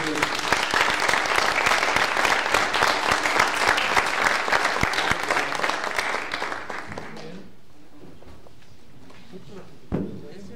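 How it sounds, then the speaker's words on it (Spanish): A conference audience in Mexico gives sustained, dense applause to the afternoon's speakers for about seven seconds, then it stops abruptly, leaving quiet room tone and a brief bump near the end. "Quiero que brindemos un aplauso a los ponentes de esta tarde y a todos."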